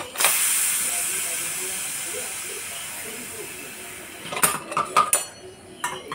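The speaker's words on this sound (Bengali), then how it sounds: "এবার প্রেশার কুকারের ঢাকাটা আমি খুলে দিচ্ছি" A strong steam hiss bursts out and slowly fades, followed by a few metallic clanks and clicks of a pressure cooker lid being worked open after cooking bamboo shoots.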